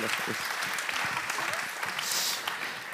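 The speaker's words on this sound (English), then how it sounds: "can we have a big round of applause for everyone?" Applause from the audience at a feminist climate academy finale event, a brief continuous wash of clapping from a sizeable crowd, fairly soft and even, with a voice faintly heard over it.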